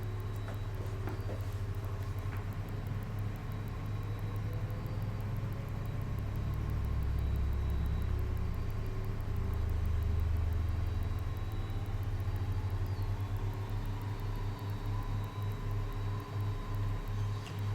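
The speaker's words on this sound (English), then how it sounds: "Okay, and that's 2 good engine starts." Jet engines of a FlySimWare Learjet 35A spool up in a flight simulator game, giving a continuous, loud, close roar and hum with faint rising whine tones throughout, without any talking.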